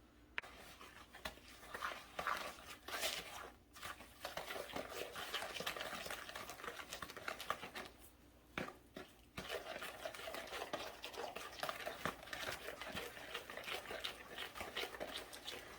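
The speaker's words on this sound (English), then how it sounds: "we're going to mix the butter into the sugars" Warm melted butter stirred into sugars in a bowl for soft cookies, a faint continuous scraping and gritty swishing of a utensil with brief pauses, close and quiet.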